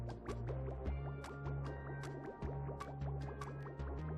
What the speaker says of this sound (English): Let's make sure the water is flowing correctly.